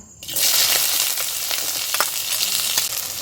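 Chopped onion hits hot oil for an onion kachori filling and sizzles loudly and steadily at close range, a continuous hiss with a few scraping stirs, and no talking.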